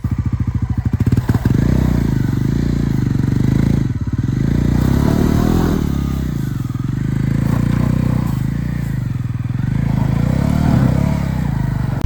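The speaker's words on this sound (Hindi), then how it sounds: "बाइक को भी थोड़ी सी बर्फ़ की जो है वो बर्फ़ में थोड़ा सा घुमा लेते हैं भाई" Motorcycle riding on a snowy winter road in Spiti Valley on the Indo-Tibet Highway, its engine a loud, steady drone throughout with a brief rev and some clatter near the start.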